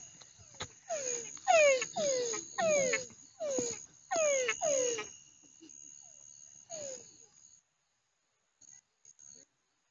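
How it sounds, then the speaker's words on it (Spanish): Repeated frog calls at night after rain, a run of rising chirping croaks in quick bursts over a steady insect hum, then the calls stop and only faint chirps remain. "Vamos a grabar algunos sonidos de ranas."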